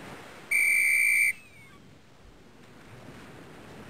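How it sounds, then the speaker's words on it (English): A single steady, bright whistle tone from the PC game Just Grandma and Me sounds for under a second, then fades into quiet background ambience. "Whistle."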